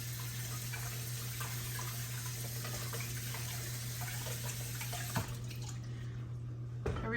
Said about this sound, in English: next I'm going to wash my hands real quick